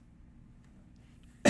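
One short, sharp cough bursts out at the very end after near silence, close and fairly loud.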